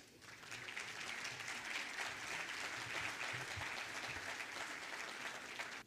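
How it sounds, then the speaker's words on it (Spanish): Steady audience applause welcoming a speaker at a science congress, a dense, even wash of clapping heard at low level from start to a sudden stop. "Vamos a recibirlo con un fuerte aplauso."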